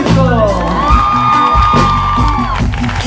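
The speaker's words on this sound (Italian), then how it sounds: "Un applauso al pubblico!" A crowd at an outdoor pop concert in Calvello cheers loudly with whoops and shouts, and sustained vocal tones ring over the noise.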